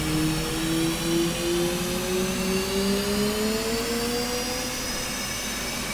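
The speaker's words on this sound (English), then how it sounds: "Right engine is starting up." An F/A-18 Hornet's right jet engine starts up in a flight sim video game, a steady whining roar with a rising turbine tone that climbs slowly in pitch, loud and continuous.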